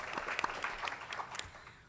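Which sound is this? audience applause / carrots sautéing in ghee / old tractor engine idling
audience applause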